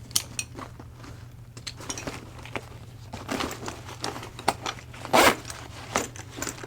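Zippers and buckles on a durable military-style surplus backpack being handled: scattered clicks, rattles and short zipping rasps, one louder burst near the end, close and quiet with no talk.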